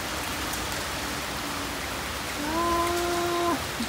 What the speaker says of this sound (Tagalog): Wah, lamig. Ang lakas ng ulan guys,